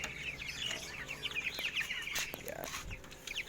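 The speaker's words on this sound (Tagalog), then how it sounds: "Ayan ulit yung aking bagong alagang sisiu." Newly raised chicks and chickens peep and cluck in quick, repeated calls, close and fairly loud, with a few scattered farmyard bird sounds behind them.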